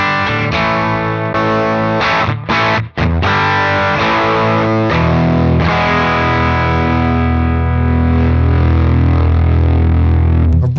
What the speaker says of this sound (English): It's creating more distortion inside the valves in the amp.